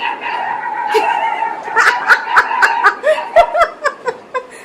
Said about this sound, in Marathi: किती ओरडायला लागलेत बघा का तर ती बाहेरचा एक डॉगी आलाय म्हणून